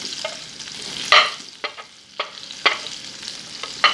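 Cumin, fenugreek, cardamom, cinnamon and cloves sputter in hot oil in a pan for shrimp gravy, giving a soft continuous sizzle broken by sharp crackles and pops at irregular intervals, close and moderately loud.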